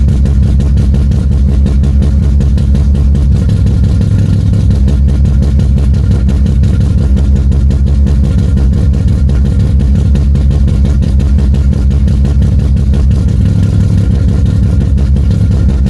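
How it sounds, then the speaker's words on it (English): Mazda RX-7 rotary engine idling, loud and close, a steady low burbling drone with a slightly uneven, lumpy pulse running without pause and no voices. "I'll insert a clip of it idling."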